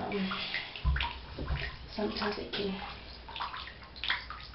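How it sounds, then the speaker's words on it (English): Water is poured and splashed over a hedgehog during its bath, with close sloshing and trickling in uneven bursts under soft background voices. "And I just pour some water over him."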